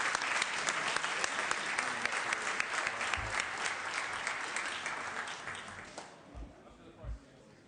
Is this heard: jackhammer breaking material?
no